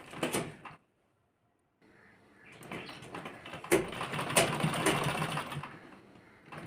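A sewing machine stitching a lehenga blouse runs in short bursts, with a brief whir, a pause, and then a longer stretch of close mechanical rattling and clicking.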